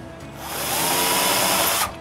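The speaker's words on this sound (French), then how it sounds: "Je perce des trous pilotes." A power drill bores a pilot hole in a window frame, giving one loud, close, steady high whine that spins up, holds for just over a second and cuts off.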